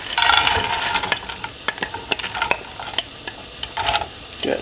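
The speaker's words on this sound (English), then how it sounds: "And here come the vegetables." Vegetables hitting hot oil in a pan on the stove, an opening burst of loud sizzling that settles into crackles, sharp spatters and a few utensil clicks, close by and uneven, with no talking.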